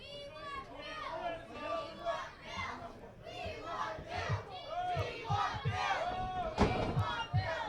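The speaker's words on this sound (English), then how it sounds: "Listen to the crowd chanting, "We want Bill."" A wrestling event crowd chants together in rhythmic, repeated shouts, loud and reverberant, with a commentator's voice and scattered yelling mixed in.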